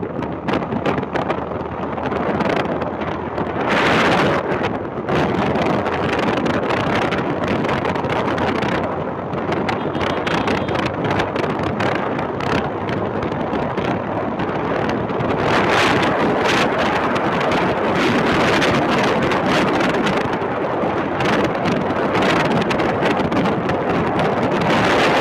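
Heavy wind buffeting a microphone while riding a Yamaha FZ V3 motorcycle at night, loud continuous roar with gusting surges across the whole stretch, no talking.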